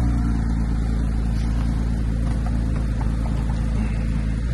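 A 2024 Mercedes-AMG G63 Brabus 800 at an auction lot, its engine idling and revving with a deep steady rumble, loud and close, with no talk over it.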